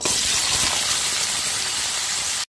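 Potatoes tipped into hot oil spiced with nigella seeds, for a Bengali bori and borboti dish, sizzle with a steady, loud, close hiss that runs unbroken for over two seconds, then stops abruptly.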